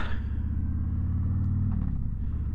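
A Harley-Davidson Freewheeler trike rides along the road, its engine holding a steady, loud, close rumble that carries on throughout without a voice over it.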